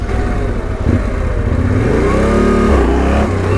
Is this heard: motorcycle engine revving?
yes